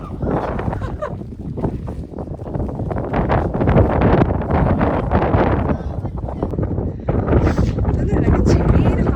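Strong wind gusts across the Mandalpatti hilltop, roaring and buffeting the microphone in a loud, continuous rush that swells and eases, with people talking over it.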